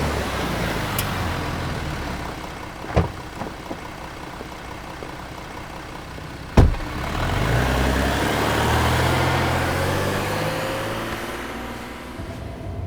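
A car pulls up to collect someone, its engine rumbling low and steady nearby, with a couple of sharp knocks and a swelling engine drone partway through.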